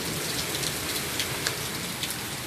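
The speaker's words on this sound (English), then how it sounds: "It just rained in my face." Rain falls steadily at night during a stormy evening, a dense, even hiss with scattered brighter drop taps on surfaces close by.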